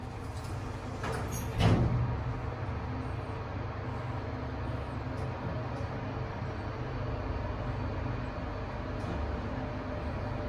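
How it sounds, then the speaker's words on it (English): Hitachi elevator doors at Mustafa Centre's old wing close with a brief sliding thump early on, followed by a steady low machinery hum as the lift car runs. "Doors are closing."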